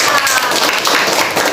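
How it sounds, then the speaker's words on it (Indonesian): A classroom applauds group 4 with brief, dense clapping from many hands, steady and close for a moment. "kita beri tepuk tangan untuk kelompok 4."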